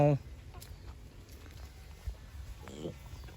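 Chickens on a farm raising wild boar let out a loud squawk at the start and a softer cluck near the end, over faint background rustling.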